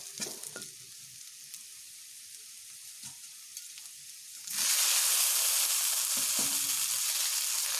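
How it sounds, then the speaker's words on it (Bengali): Potatoes and fried ridge gourd sizzling in an open pan, first a quieter crackle with light stirring, then a sudden loud steady sizzle as more pieces are added, close by. "এবার আমি ঢাকা খুলে আলুগুলোকে আরও একটু ভেজে নেব"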